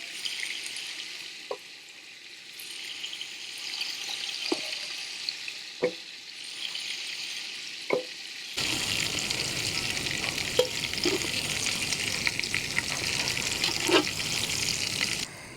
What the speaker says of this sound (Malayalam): അടുത്ത ചിക്കൻ കൂടി നമുക്ക് അതേപോലെ ഫ്രൈ ചെയ്തെടുക്കാം.